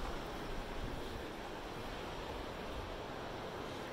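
Steady wash of surf on a quiet, cold beach with repaired boardwalks, blended with wind rumble against the microphone, continuous and even throughout with no voices.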